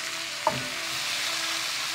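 Lobster pieces fry in oil in a pan. A single sharp clink is followed by a steady, moderate sizzle that carries on alone.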